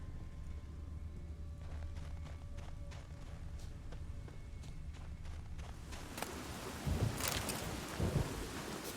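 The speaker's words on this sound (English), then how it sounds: "A storm, damn it." Video game thunderstorm with rain: a quiet wash of rain and wind with faint clicking footfalls, building to loud rumbling thunder crashes near the end.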